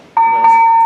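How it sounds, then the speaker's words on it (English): A bell at Fort Hall struck once, then again, giving a clear sustained ringing tone that keeps sounding loudly to the end. "And this is a bell."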